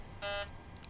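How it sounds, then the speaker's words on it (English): A single short electronic cockpit throttle warning beep, steady and fairly loud, lasting a fraction of a second against a low background hum. "that beeping is actually the throttle"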